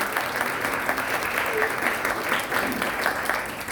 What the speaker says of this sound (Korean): 우리 큰 박수로 우리 소장님 환영하겠습니다